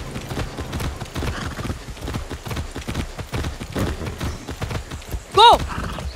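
Rapid, rhythmic hoofbeats of a galloping horse in the video game Far Cry 6, steady and close, with voices over them and a short whinny near the end.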